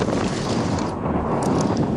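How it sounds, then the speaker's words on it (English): Gusty wind buffets the microphone at an exposed high point in Yosemite, a constant rough roar with no other sounds. "a little windy up here"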